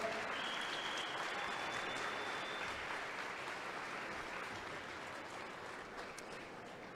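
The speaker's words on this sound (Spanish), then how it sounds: "Ahora denle una ofrenda de palmas y tome su lugar." A church congregation claps together in a sustained, even burst of applause that stays fairly constant before tapering slightly, heard somewhat distant.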